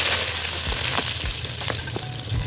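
Five garlic cloves sizzle and crackle in hot oil for a Pakistani-style zucchini dish, a steady close frying hiss with a few sharp pops and light stirring clinks, no talking.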